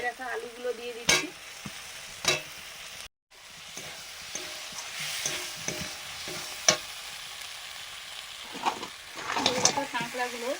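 Fried potatoes and water go into a pan of spicy crab curry, which bubbles and simmers with a steady low sizzle, broken by repeated loud clatters of stirring and a brief silence.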